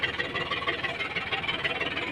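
A new Mahindra DI 740 tractor engine runs steadily on a farm, a loud close mid-pitched diesel drone with a rapid knocking pulse and no talk over it.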